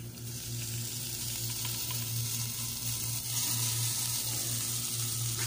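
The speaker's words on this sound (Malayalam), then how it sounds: "ഇത്രയും ചേർത്ത് നല്ലോണം ഒന്ന് മിക്സാക്കി എടുക്കുക" Masala dosa potato filling being stirred and mixed in a hot pan, a steady close sizzle and hiss with soft scraping running the whole time, no talking.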